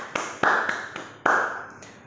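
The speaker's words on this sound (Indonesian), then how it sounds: "Tepuk tangan buat Tuhan Yesus" Children at a small-class Sunday school worship service clap their hands, a few sharp separate claps with a brief ringing echo, close and fairly loud, with no talking.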